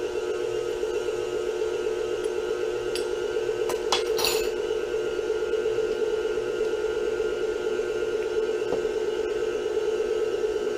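Cherry cream pie filling being mixed in a bowl, a steady even whirring hum that runs throughout, with a few brief clinks partway through.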